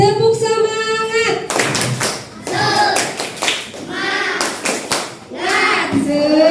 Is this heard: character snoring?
no